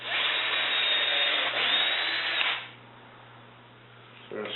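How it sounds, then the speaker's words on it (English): A power drill whirs steadily into wood for a couple of seconds, then cuts out, leaving low room noise before a brief restart at the end. "you're going to take a drill and just drill directly in where you want your screw to go"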